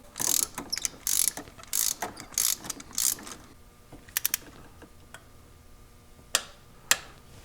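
Close, crisp bursts of ratchet clicking as a spark plug is tightened on a Toyota 4Runner, FJ Cruiser or Tacoma engine, followed by a few isolated single clicks with short gaps between them.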